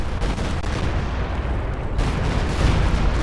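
A Stuka dive bomber strikes in a World War II strategy video game, producing a loud, continuous barrage of blasts and gunfire with heavy rumbling and a fresh surge partway through.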